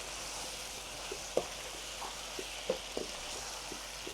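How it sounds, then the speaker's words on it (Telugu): Raw chicken, a kilogram of it, frying in a pot for Himachal murghabadi biryani, a faint steady sizzle with occasional soft clinks and stirring bumps. "కొంచెం ఫ్రై చేస్తున్నా."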